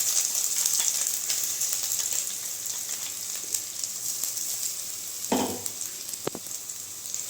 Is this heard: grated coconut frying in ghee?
yes